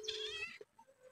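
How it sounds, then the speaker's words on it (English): Kitten giving one short, high meow at close range, followed by faint soft rustling and quiet background noise. "This kitten is going to be the death of me."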